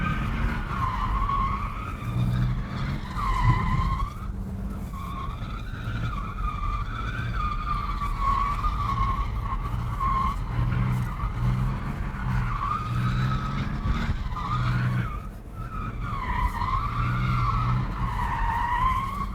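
Tires of a BMW car squeal in continuous, loud skids as it drives and slides, the wavering screech rising and falling over a steady engine drone with a brief dip near the end.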